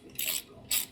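A ratchet wrench tightening a bolt during a transmission swap, heard as two short bursts of rapid clicking close by, with a quiet gap between them and no talk.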